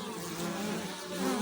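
Bees carrying pollen on a late-September day after rain, a continuous close buzzing hum of many wings that stays steady and fills the whole moment.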